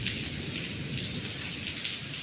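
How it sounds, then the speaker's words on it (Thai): Heavy rain pours down at a temple, a dense, constant roar of water hitting surfaces with no pauses, loud and close throughout. "เอามาถึงที่วัดนี่ฝนเทลงมาเลยนะคะ"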